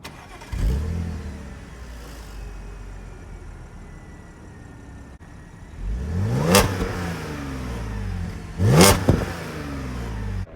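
An Audi S5 Coupe's 3.0 supercharged V6 with an APR aftermarket intake starts and idles, then gives two loud, sharp revs that rise and fall, recorded up close.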